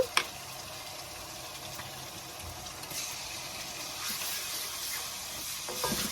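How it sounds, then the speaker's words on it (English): Scotch bonnet pepper mix hitting a hot pot for Ghanaian corned beef jollof rice gives a steady, moderately quiet sizzle and hiss that swells slightly, with a few faint stirring knocks and no talking. "In goes the Scotch bonnet mix."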